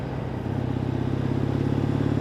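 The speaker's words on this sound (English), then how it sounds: "I don't know if you can hear the exhaust on it, you know, especially at the lower RPMs" A 2014 Triumph Bonneville motorcycle idles at low RPM, its exhaust giving a steady, even, low burbling note that holds throughout without revving or talk.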